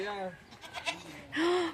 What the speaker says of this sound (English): Good morning, baby goat.